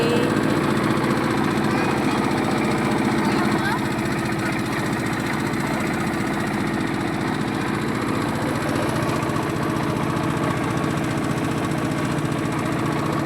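A motor boat engine drones loud and unbroken throughout on the Jalangi-Padma river, a close, rattling, steady chug with faint talk beneath it.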